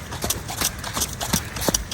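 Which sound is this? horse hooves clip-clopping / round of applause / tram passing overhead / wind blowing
horse hooves clip-clopping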